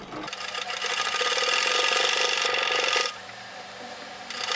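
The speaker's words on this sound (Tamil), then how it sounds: "நான் பெரிய தையலை தான் வச்சு ஸ்டிச் பண்ணிகிட்ருக்கேன்." A sewing machine stitches a frilled pillow cover made from old tops, running in a steady, close mechanical buzz for about three seconds before easing into a quieter, slower run.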